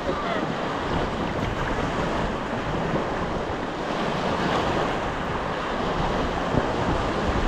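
Constant loud buffeting wind roars across the microphone over a rushing river during a rubber boat ride in Norzagaray, Bulacan, with no break in the noise.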